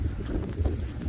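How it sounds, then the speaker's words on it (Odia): Strong wind blowing snow during a New Jersey blizzard, a brief rough roar of gusting air buffeting close to the microphone. "ଏତେ ଜୋରରେ ସ୍ନୋ ବ୍ଲୋ କରୁଛି"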